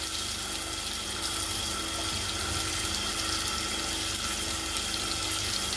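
Potatoes frying steadily in oil in a pan over a low-medium flame, a dense, even sizzle throughout with no pauses and no voices.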